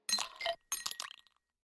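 Glasses clinking together in a toast over a Japanese food meal, two bright clinks a moment apart with short ringing tails, close and clear in an otherwise quiet room.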